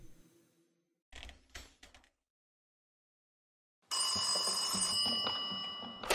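A telephone rings with a sustained electronic tone in the horror game After The Curtain Call, coming in loud after a stretch of silence and some brief mechanical clatter.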